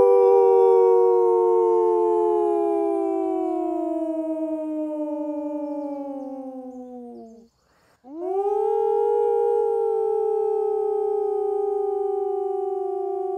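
Howling at a wolf center: one long, sustained howl slowly sinks in pitch, breaks off briefly, then rises into a second drawn-out howl, loud and close, with no talking.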